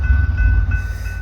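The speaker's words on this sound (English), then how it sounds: "Whoop, there goes that train." A VIA passenger train passes close by a station, giving a loud, steady low rumble with a faint whining tone above it. No one speaks.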